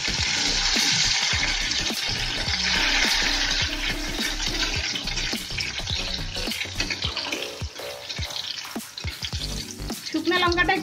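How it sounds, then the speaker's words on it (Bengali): Dried red chilies fry in a little hot oil in a wok on a gas flame, making a bright continuous sizzle with scattered clinks and scrapes of stirring that grow busier near the end. "এখন এই তেলের মধ্যে শুকনো লঙ্কা দিয়ে দেব।"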